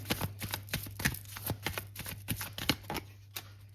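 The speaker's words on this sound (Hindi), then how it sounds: "ये आखिरी डेक है जिससे मैं कार्ड ले रही हूँ।" Tarot cards being pulled and handled from a deck, a quick run of crisp papery flicks and snaps close up, with a steady low hum underneath.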